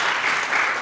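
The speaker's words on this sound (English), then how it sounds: "So please, another round of applause." Audience applause at a university lecture event, a brief burst of steady clapping from a crowd, even and fairly loud.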